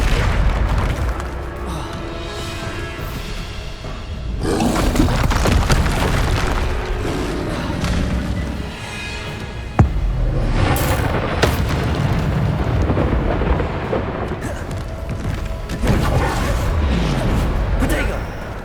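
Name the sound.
Bombarda spell explosions from the video game Hogwarts Legacy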